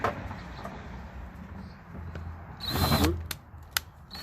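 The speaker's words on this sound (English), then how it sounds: "Drill that out." A power drill whirs in a short burst, drilling out metal on a camp stove leg, with faint clicks and handling noise before and after.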